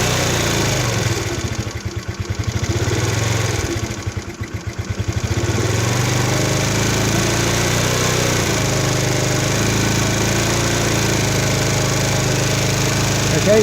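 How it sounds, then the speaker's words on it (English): A Chinese 139QMB four-stroke scooter engine runs steadily at raised idle, revs dipping twice then holding an even buzzing drone close by, with no talk. "just to keep it revving for a bit"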